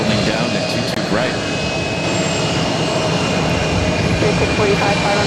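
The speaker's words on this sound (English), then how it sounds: "That Southwest flight heading to St. Louis, now rolling down at 22 right." A Southwest jet rolls down runway 22 right at Boston Logan for takeoff, a loud, sustained engine roar with steady broadband rushing and faint whining tones, while radio talk plays over it.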